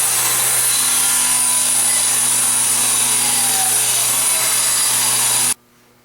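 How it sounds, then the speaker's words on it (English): A saw rips a #1 pine 1x6 board lengthwise down the middle, a loud continuous whining cut held steadily for over five seconds before stopping abruptly, with no talking. "We're going to rip this exactly down the middle, which is going to be 2 5/8 of an inch."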